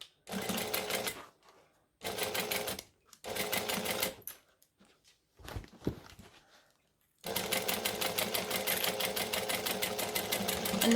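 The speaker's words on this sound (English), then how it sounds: "Stitch, back stitch." Sewing machine stitching a handbag seam with back stitches: several short bursts of rapid needle chatter separated by silent pauses, then one long continuous run, close and loud.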